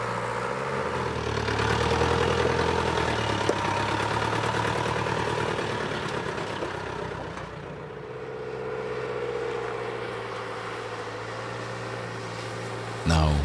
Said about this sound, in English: The dirt tracks can be only managed with off-road vehicles fully suited to extreme conditions.